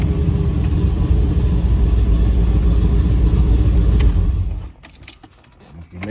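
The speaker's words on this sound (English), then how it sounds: "Man, this car sounds so good." A cammed V8 in a classic Grand Prix idles with a heavy, loping rumble that holds steady for several seconds before cutting off, leaving faint clicks and rustling.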